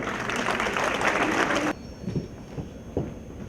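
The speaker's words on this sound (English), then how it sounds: "Joined us in National Symposium with a great round of applause" A symposium audience gives a round of applause, a dense burst of clapping that stops abruptly halfway through and leaves a quiet room with a few scattered sounds.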